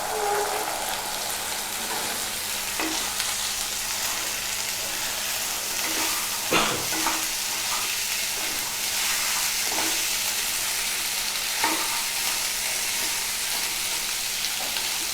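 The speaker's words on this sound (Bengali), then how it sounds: "এইভাবে আমি 2-3 মিনিট কষাবো" Boiled chickpeas stir-fried with cooked spice paste in a pan for a chola bhuna, giving a continuous even sizzle with occasional scraping knocks from stirring, close and steady, no voices.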